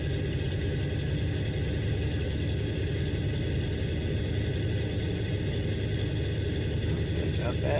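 A Pasped Skylark light aircraft engine in Microsoft Flight Simulator gives a steady, deep droning rumble that runs continuously and evenly at moderate volume throughout.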